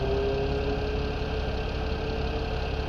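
A tractor engine in Farming Simulator 17 idles with a low, even rumble and a faint tonal hum, continuous and unchanging throughout, with no voices.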